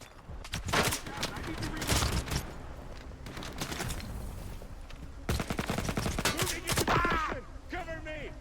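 Enemy gunfire in STALKER 2, with rapid bursts of shots peppering in dense volleys and long stretches of sustained firing, mixed with a voice talking over the shooting.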